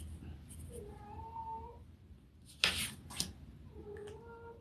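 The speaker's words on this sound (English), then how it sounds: "Oh, there goes my cat." A house cat meows a few times indoors, nearby and drawn out, with a sharp rustling clatter partway through.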